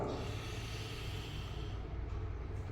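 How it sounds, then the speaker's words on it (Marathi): A long, steady pranayama inhalation drawn close to the microphone during a breathing exercise, a continuous airy rush of breath that holds evenly for about three seconds with no talking. "श्वास घेतला"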